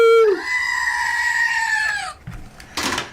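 A goat sound effect bleats once in a long, wavering, nasal cry that holds for nearly two seconds, loud and close, followed by a few brief unrelated noises.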